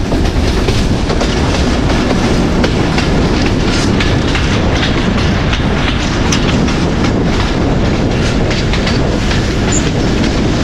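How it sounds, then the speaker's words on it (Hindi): The 267UP Rawalpindi Passenger train rolls toward Haripur Hazara station in the rain, heard from on board as a loud continuous rumble with steady clickety-clack of wheels on rail joints. "हमारी आहिस्ता आहिस्ता अप्रोच कर रही है हरीपुर हज़ारा रेलवे स्टेशन की तरफ"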